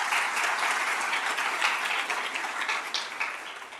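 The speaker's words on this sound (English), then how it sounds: "So please, help me welcome Erie with a warm round of applause." Steady audience applause at a hospital keynote event, dense continuous clapping from a crowd, fairly loud and even throughout without any talk over it.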